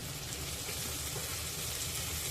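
Fish (kharba) frying on a flat tawa griddle for an Agri-style fish fry, giving a steady, even sizzle with broadband crackle that holds close and moderately loud throughout with no talking.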